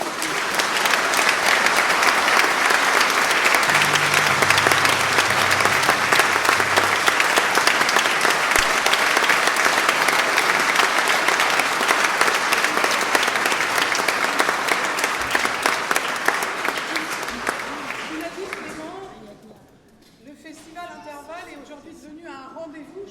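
Concert audience at the Festival Intervalles 2019 gives sustained, loud applause after a performance of the Italian Symphony, a thick roar of clapping that dies away near the end before a voice begins speaking.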